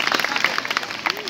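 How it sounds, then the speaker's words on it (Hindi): Students clapping at a school prize distribution, a steady patter of applause from a crowd over about a second, with speech mixed in. "तमाम तलबा जोरदार तालियों की गूंज के साथ हौसला अफजाई करें"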